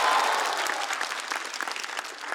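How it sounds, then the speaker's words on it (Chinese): Studio audience at a stand-up comedy competition show clapping together, a dense sustained burst of applause that slowly thins toward the end, with no talk over it. "我们掌声再次送给"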